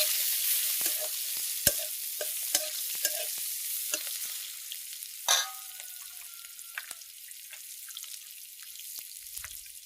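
Large-cut onions sizzle steadily in hot oil in a village kitchen, with sharp clicks and scrapes of a spoon stirring the pan at irregular intervals.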